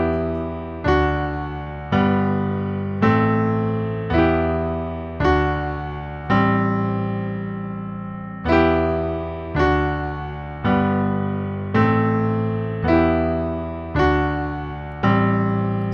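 Piano chords of the main progression from a song, struck in a steady repeating pattern, each ringing out and fading before the next, at a moderate, even tempo.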